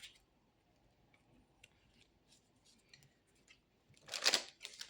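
Tarot cards being shuffled and drawn: soft, sparse card rubs and light ticks at low level, then a brief, louder riffle-like burst near the end, with no talking.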